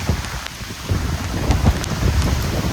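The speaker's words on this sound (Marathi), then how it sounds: "हे बघा, जाम पाऊस, जाम वारा" Heavy rain pours down hard while gusts of wind roar through a flooding coastal Konkan village, a loud, dense, continuous wash of noise with no voices.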